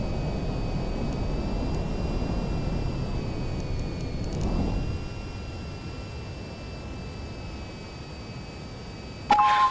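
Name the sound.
jet aircraft engine at full throttle taking off, flight video game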